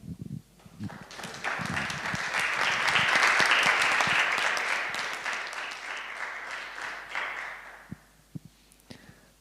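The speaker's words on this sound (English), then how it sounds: "There's applause from Wrocław." Applause from an audience after a presentation at a media arts museum colloquium, a steady burst of clapping that swells and then fades, ending with a few scattered claps.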